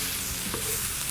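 Shrimp and squash stir fry being stirred in a hot pan, giving a steady, close sizzle with a faint scrape partway through and no talking.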